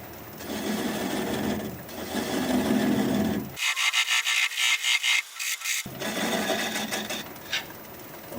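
A wood lathe spins a small workpiece at about 400 rpm while a gouge rubs and scrapes against the wood, with a steady whir broken by a stretch of harsher, choppy cutting, loud and close.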